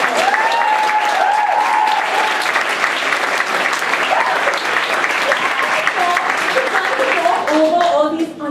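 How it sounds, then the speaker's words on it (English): Loud, sustained applause from a talk audience fills the room, dense clapping with scattered whoops and cheers rising over it, especially near the end. "can we please give Ben Pearlstein and Katie Greenman a massive round of applause?"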